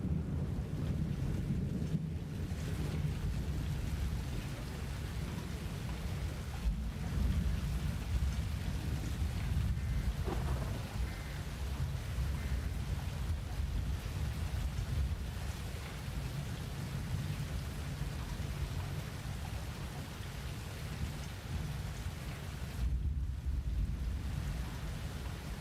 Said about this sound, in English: All we got is a bunch of rain and hail.